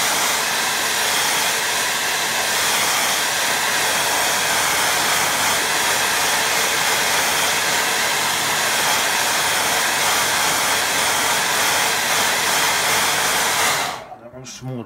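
A hair dryer blowing over a watercolour painting of a little pond, a loud, close, steady whooshing roar that runs unbroken before cutting off near the end.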